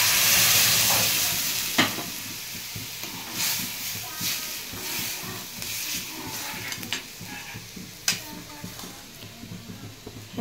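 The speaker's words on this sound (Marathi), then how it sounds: "थांब जरासं फोडणी देऊ दे" Spices for a dal tempering sizzle loudly as they hit hot oil, then settle into a softer crackle broken by sharp stirring clinks and scrapes from close by.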